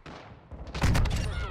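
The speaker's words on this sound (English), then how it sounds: "Caleb's having fun with a shotgun again." A shotgun blast booms in a video game, one loud close shot with a thick low thud and crackling tail, preceded by a short fading sound.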